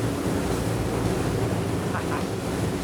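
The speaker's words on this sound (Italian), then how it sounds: "Avete visto com'è il mare fuori? Avete visto dove arrivano le onde? E siamo a 40 nodi." Sea and wind rushing past a Bertram 54 motor yacht running at 40 knots, a dense continuous roar of water and air with no breaks, loud and close.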